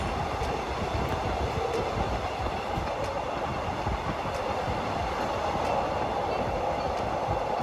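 A Bangkok Red Line commuter train rumbles along the rails with a steady, loud roar and faint rhythmic clacking, heard from inside the carriage.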